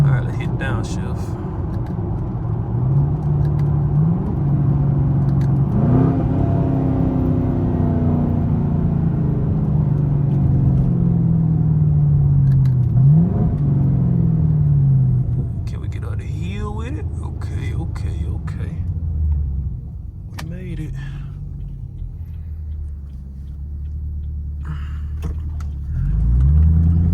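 A Chevrolet Camaro SS engine rumbling on a road, with rising revs and sharp blips as it downshifts, a heavy close drone from inside the car with talk over parts of it.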